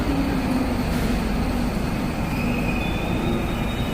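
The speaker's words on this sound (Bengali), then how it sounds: "ট্রেনটা হচ্ছে ডিএলআর ট্রেন" A DLR train at a London station, loud continuous rumble of the railcars with a faint high wheel squeal and a rising electric whine near the end.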